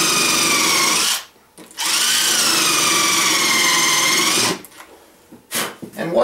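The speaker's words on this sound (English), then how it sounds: "start drilling my holes." Close, loud whine of a power drill with a countersink bit boring holes partway into a wooden board for an ammo box, two sustained bursts split by a short pause, followed by quieter handling noises.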